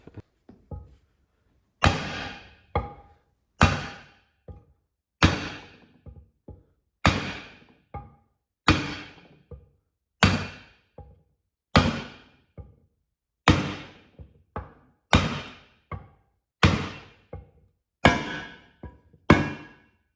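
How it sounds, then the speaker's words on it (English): Steady metallic hammer blows on a cymbal being hammered out, about one every second or two, each ringing out briefly before the next strike. "we're going to hammer this out"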